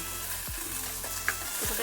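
Garlic cloves and green chillies fry in oil for a curry, giving a steady close sizzle with a couple of sharp stirring scrapes and a brief clink.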